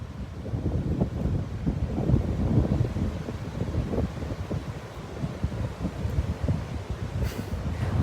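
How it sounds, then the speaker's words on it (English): Strong wind blows outdoors, buffeting the microphone with a steady, rumbling roar that surges and eases, loud and unbroken throughout with no talk. "It's very windy here."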